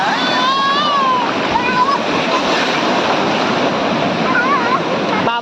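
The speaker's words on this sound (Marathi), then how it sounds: "थांब येऊ दे लाट येऊ दे" Ocean waves washing up on a beach in Goa, a continuous loud roar of surf and splashing water close by, with faint whistling and voices over it.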